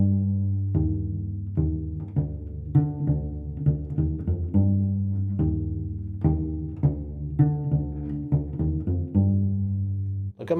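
A cello plays a low bassline at measure 66, with deep plucked or bowed notes in a steady, syncopated pattern, close and clear throughout.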